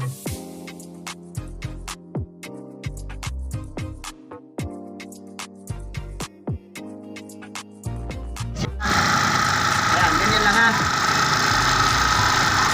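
A Suzuki Burgman motorcycle engine runs while an alarm is being installed, with a low steady hum that rises into a louder, fuller roar near the end and scattered clicks over it.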